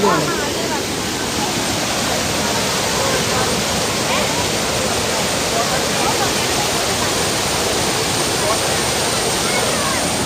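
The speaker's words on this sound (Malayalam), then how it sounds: "വെള്ളച്ചാട്ടം കണ്ടു വെള്ളം കുറവായതുകൊണ്ട് ഇറങ്ങാൻ പറ്റി" The Aruvikuzhi waterfall in Kottayam, Kerala, running with low water, roars continuously, a dense, steady rush of falling water close by that fills the whole clip without letting up.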